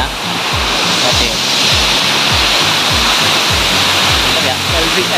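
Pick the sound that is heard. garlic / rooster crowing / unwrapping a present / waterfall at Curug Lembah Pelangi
waterfall at Curug Lembah Pelangi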